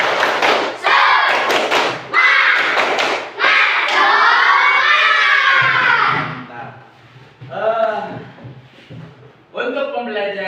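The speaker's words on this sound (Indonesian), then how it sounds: "Ayo, coba tepuk semangat." Schoolchildren in an Indonesian primary classroom perform a rhythmic spirit clap: loud, close bursts of sharp claps alternate with the children chanting together in unison.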